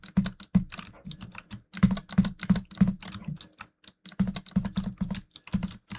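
Rapid typing on a computer keyboard, bursts of close, crisp key clicks with short pauses between words and phrases, steady and fairly loud with no talk.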